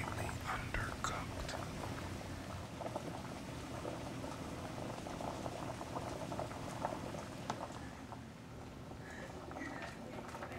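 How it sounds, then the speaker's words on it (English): Macaroni pasta boiling in a pot of heavily salted water, a steady close bubbling and rolling simmer with soft popping patter, continuous and fairly quiet throughout, no voices. "Now we're ready to boil the macaroni."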